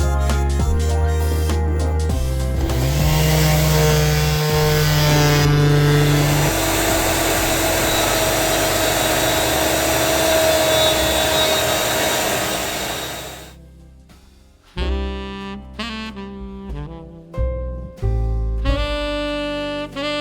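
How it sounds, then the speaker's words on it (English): Wooden plaid cutting boards are sanded with a power sander that drones loudly and steadily for about thirteen seconds, then cuts out, followed by several short bursts of the motor starting and stopping. "Joy of sanding."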